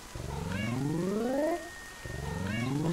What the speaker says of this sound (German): Das Miauen ist so niedlich.